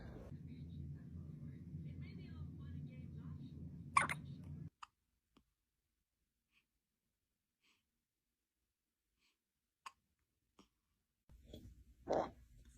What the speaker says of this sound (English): Do you know how we get rid of hiccups?